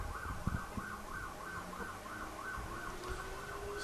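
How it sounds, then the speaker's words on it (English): A wailing emergency vehicle siren rises and falls repeatedly in the distance at a cricket match, faint beneath steady background noise and occasional thumps. "Hearing the siren in the background."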